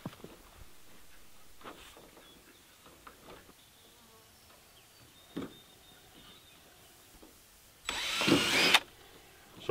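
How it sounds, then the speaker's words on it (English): A short, loud burst of a power drill pre-drilling screw holes in a greenhouse door near the end, after quieter handling clicks and knocks. "So I'm pre-drilling all my holes."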